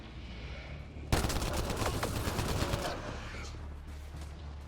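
Rapid gunfire in the sci-fi shooter Mass Effect Andromeda erupts suddenly and loudly as a dense burst of overlapping shots, easing into scattered fire over a steady low background.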